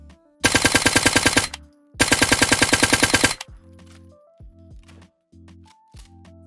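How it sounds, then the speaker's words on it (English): Two rapid bursts of suppressed automatic gunfire in Fallout 4, each a quick run of punchy thuds, followed by clicking and mechanical handling sounds. "Even with the suppressor, this thing sounds nice and beefy."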